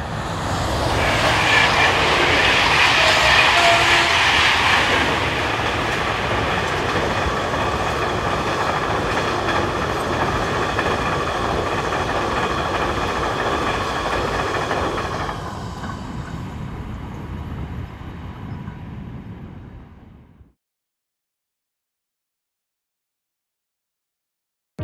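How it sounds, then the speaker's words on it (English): A freight train hauled by locomotive G1206 rumbles past on its run from Bantzenheim to Strasbourg Port du Rhin, loudest early on, then a steady clatter of wagons that eases off and stops abruptly near twenty seconds. "The train is from Bansenheim to Strasbourg Port de Rhin."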